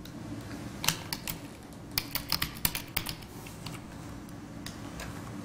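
Keys clatter on a computer keyboard as a password is typed, a loose run of sharp clicks bunched in a few quick bursts over a steady low room hum, with no talking.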